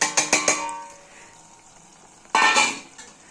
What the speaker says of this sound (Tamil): கழுவி வச்ச சிக்கனை அதில் போடுறோம்.